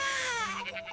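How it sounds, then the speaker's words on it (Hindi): A baby cries out by a riverside, a short, wailing sob that falls in pitch and breaks up at the end, heard alone without other voices. "उसने बच्चे के रोने की आवाज सुनी।"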